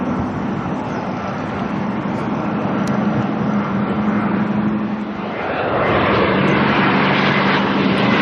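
A small airplane flying past north of Auckland Airport, a sustained engine drone with a steady low tone, the rushing noise growing slightly louder partway through, no voices.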